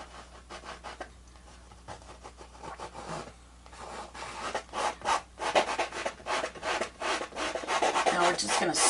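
A painting knife scrapes paint down the canvas of a snowy mountain scene, giving repeated close rasping strokes that begin soft and grow into louder, rhythmic scrubbing bursts.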